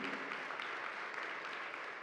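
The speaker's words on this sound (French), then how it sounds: "Je crois qu'on peut vous applaudir pour ce témoignage" A conference audience applauds panel speakers after a testimony. The clapping is faint and distant, a soft, steady patter for about two seconds.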